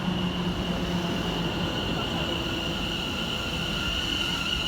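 Pair of London Overground class 710 electric trains pulling into a station, a steady rumbling roll with a sustained high electric whine and tonal hum, close and continuous throughout with no talking.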